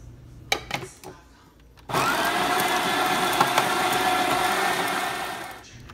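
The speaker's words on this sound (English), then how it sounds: "Twist the top of the grinder over to the espresso setting so that it grinds it finely for the machine." Coffee grinder grinding espresso beans on a fine espresso setting, a few clicks and then a loud, steady whirring grind lasting about four seconds before it stops.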